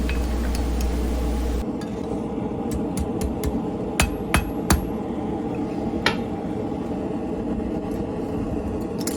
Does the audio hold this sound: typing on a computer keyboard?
no